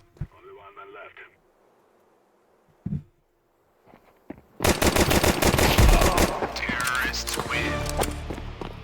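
Gunfire in Counter-Strike 2 (CS:GO), a dense burst of rapid shots starting midway and running to the end, loud and close, after a quieter opening with brief game noises and a short voice.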